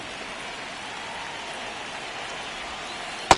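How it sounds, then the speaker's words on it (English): Steady rain falls in MLB The Show 26 during a baseball game, a continuous even hiss of drops throughout with one brief sharp click near the end. "This rain is not letting up."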